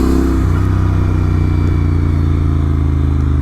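A Royal Enfield Interceptor 650 with an S&S camshaft and slip-on exhausts idles and revs steadily with a deep, throaty exhaust rumble, close and loud throughout, with no voices.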